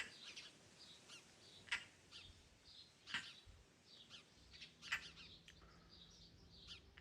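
A European roller nesting under a roof gives harsh, crow-like calls: several distinct squawks at intervals, with fainter chirps between them over quiet outdoor background.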